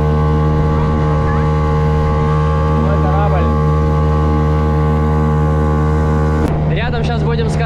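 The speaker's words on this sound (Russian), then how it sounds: "Ты, получается, включил скорость, и все. И она как бы сама плывет." A motorboat engine runs steadily at full throttle on the Volga, a loud continuous drone with a strong low hum, while people talk over it throughout.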